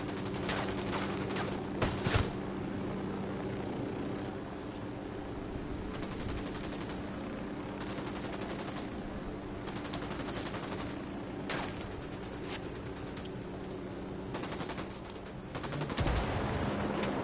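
Sustained gunfire in Ghost Recon Wildlands, with rapid bursts and single shots cracking close by in an ongoing firefight, over steady background noise and no talk.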